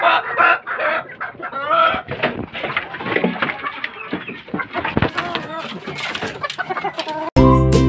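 Hens and a rooster at a small backyard chicken farm, clucking and squawking close by in overlapping bursts, with someone talking over them and a sharp, loud burst at the end.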